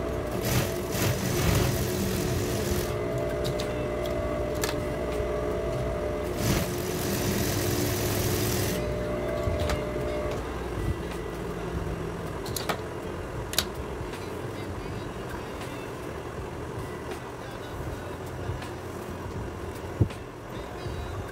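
A sewing machine runs down the middle of fabric strips, stitching a long gathering line for a simple child's dress: a steady mechanical whir in long runs that stops and restarts, with ticks near the end.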